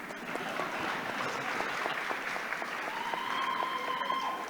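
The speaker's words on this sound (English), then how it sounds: "clap your hands, please" An audience at a tourism leadership forum claps steadily, a dense continuous patter of many hands filling the room, with a faint tonal sound rising beneath toward the end.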